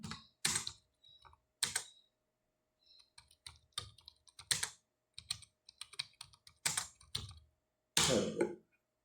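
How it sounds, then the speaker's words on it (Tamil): Computer keyboard typing, entering a prompt in Tamil: irregular bursts of close, crisp key clicks with short pauses between words, no talk. "நான் தமிழ்லேயே டைப் பண்ணுறேன்."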